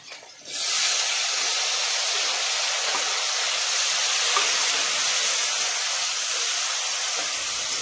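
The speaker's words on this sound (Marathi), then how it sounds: "तेल आपलं गरम झालेलं आहे, त्यात 1 चमचा जिरे, हिरवी मिरची, लसूण आणि टोमॅटो टाकून चांगलं परतून घ्यायचं आहे।" Cumin, green chilli, garlic and tomato sizzle in hot oil for onion chutney, a steady loud hiss starting abruptly after a short pause and holding evenly throughout, with no voices.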